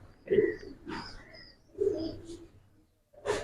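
Giribaz pigeons coo close by in soft, throaty phrases, three separate bursts spaced by short pauses in an otherwise quiet setting on a pigeon farm.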